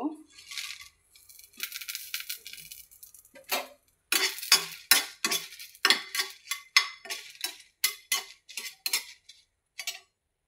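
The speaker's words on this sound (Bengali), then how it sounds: "দেখো পুরা এই যে মরিচগুলো টেলে দিচ্ছি।" Dried red chillies roast in a dry frying pan, rattling and clinking against the metal in sharp, irregular bursts as they are stirred, with brief quiet gaps between scrapes.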